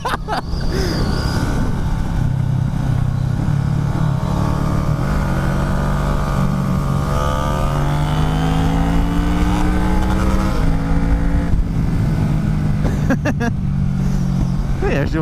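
A 250 four-cylinder motorcycle is ridden hard, its high-revving engine whining and climbing in pitch through gear changes, with a voice talking over the loud, continuous engine noise.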